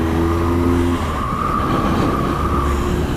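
A train rumbles past in a steady, loud rushing roar with a faint high whine running through it, heard continuously without pauses.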